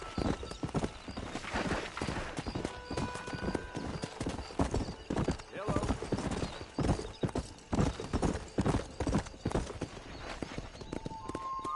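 Horse hooves clip-clop at a gallop in the Red Dead Redemption video game, a rapid, loud, steady drumming rhythm with a brief neigh, playing alone without talk.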